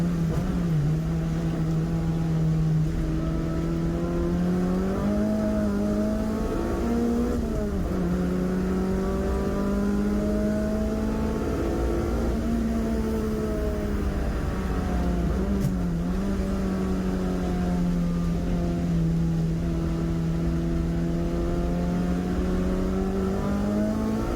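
Subaru racing saloon car on semi-slick tyres on a wet track during a club race's last lap, its engine loud and close, rising through gears with repeated accelerating sweeps and brief dips at each shift.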